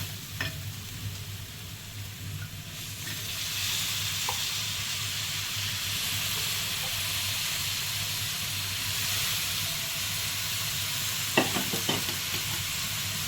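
Dried shrimp (karandi) tipped into a hot onion-tomato masala in a pan, giving a loud, steady, hissing sizzle with occasional stirring clinks, and no talking.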